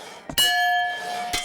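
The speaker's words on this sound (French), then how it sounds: "Il faut taper sur ce bouton avec le marteau. Si la cloche sonne," A fairground strength-test bell on a cartoon high striker rings once after a hammer hit, sharp and bright with a long ringing tail and a second softer knock near the end.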